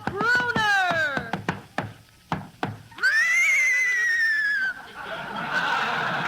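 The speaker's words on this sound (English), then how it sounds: "Hey, Abbott, there's somebody riding into the studio on a horse." A horse neighs as it is ridden into a radio studio: a loud, descending whinny, then a long high sustained neigh that trails into audience laughter and studio noise.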